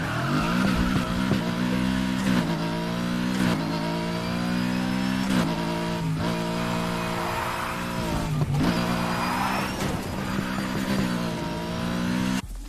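A race car in a racing video game roars steadily with nitrous boost engaged, the high engine pitch holding loud and continuous with brief gear-shift dips and a rising whine, with no talk over it.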